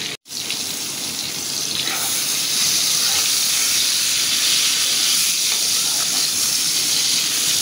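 Pointed gourd (potol) frying in oil: a loud, continuous sizzling hiss starts after a brief silent gap and stays strong and even to the end.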